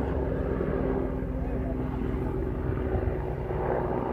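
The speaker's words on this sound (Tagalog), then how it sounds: "Bakit may helicopter?" A helicopter flies over a beach, its steady droning rotor and engine rumble continuous and fairly loud throughout, with no talk over it.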